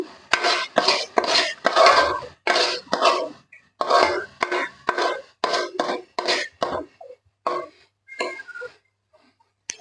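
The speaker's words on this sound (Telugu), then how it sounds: "వీటిని బాగా మిక్స్ చేసుకోవాలి, బాగా మగ్గనివ్వాలి కూడా" Andhra-style fish curry (chepala pulusu) is stirred in a pot, the spoon making a run of distinct scraping and clinking strokes in a fairly quick, uneven rhythm, close and clear, fading to sparse touches at the end, with no talking.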